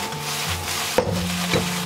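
Vegetables with chopped chili and beef are stir-fried in a small home wok for night-market fried rice, with a quiet sizzle under close scraping and knocking of the spatula against the pan.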